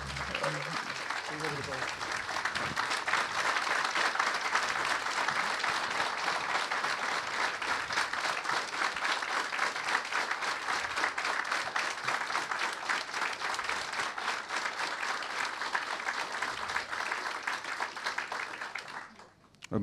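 Audience at a book premiere evening applauds in a long, dense, steady wave of clapping that goes on for almost twenty seconds before fading out abruptly, with a few voices audible at the start.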